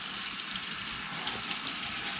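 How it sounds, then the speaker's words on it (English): Disc golf discs are rinsed under a running sink tap, giving a steady, even rush of water that holds at a constant level for the whole stretch with no talk over it. "we're gonna take them out and rinse them off"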